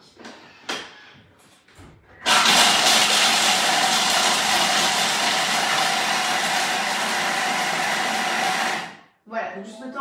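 A Thermomix blends walnuts for six seconds at speed 5, a loud steady whirring roar that starts suddenly and cuts off, with brief handling noises before and after.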